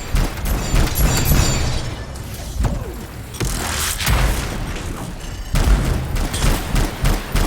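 Gunfire and explosions from the video game Anthem crackle in rapid bursts, with sharp shots, booming blasts and mechanical clatter coming in loud, uneven waves and brief lulls.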